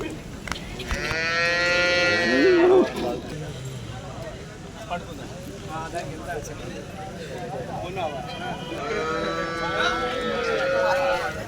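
Cows at a rural cattle market low loudly several times, long drawn-out moos near and far, over constant crowd chatter and voices talking throughout.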